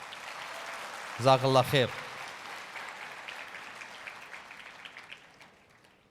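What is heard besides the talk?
audience applause after speech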